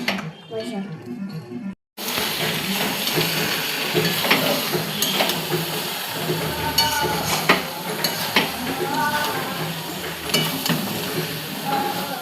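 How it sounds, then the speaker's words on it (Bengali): Meat ghugni being sautéed and stirred in a pan, with a steady sizzle and repeated scraping stirs running throughout after a brief pause near the start, close and fairly loud, while a voice talks over it. "দেখো এগুলো দিয়ে এবার ভালো করে কষবো।"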